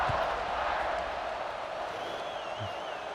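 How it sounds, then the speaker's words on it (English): Stadium crowd in the EA Sports College Football 26 video game, a steady broad roar of massed voices holding at an even level throughout, with a faint whistle-like tone rising near the end. "this crowd is feeling themselves after that last drive"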